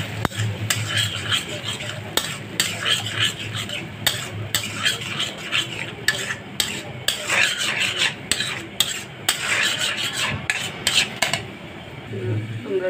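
Eggs being stirred and fried with tomatoes in a pan, a utensil scraping and clinking against the metal in busy, irregular strokes over a soft, steady sizzle.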